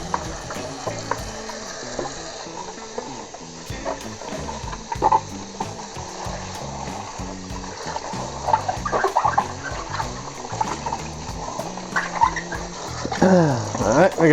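Water sloshing and splashing in a kitchen sink during hand dishwashing with soap suds, a steady wet churn with scattered clinks and swells, loudest near the end, with a voice talking over it at times.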